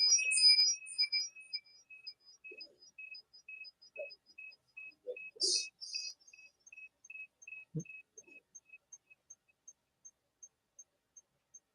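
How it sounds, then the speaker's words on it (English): A thin electronic beep repeats steadily during a live online session about making paint from chosen pigments, loud at first and then fading to faint regular ticks, with a few soft knocks and no voices. "Do you hear an annoying beep as well?"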